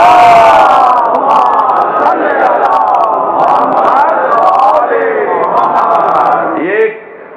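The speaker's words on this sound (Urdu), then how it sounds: "اس سے بہتر اور بلند صلوات پڑھیں۔" Massed voices at a Shia religious gathering chant salawat louder and fuller, a powerful unison swell of the crowd that holds steady, then drops away abruptly near the end.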